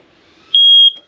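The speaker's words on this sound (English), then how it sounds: "Right above our heads, we've got your smoke detector." A single loud, piercing electronic beep from a smoke detector in a 2022 Forest River Clipper 17BHS travel trailer, steady for about half a second, then silence.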